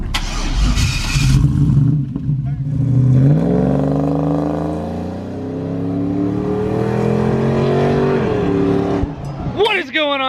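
A car at the Cleetus and Cars Houston 2019 burnout pit starts up, then its engine revs hard in a long climbing whine that holds and fades before a final sharp rev, loud and near, with a crowd and voices around it.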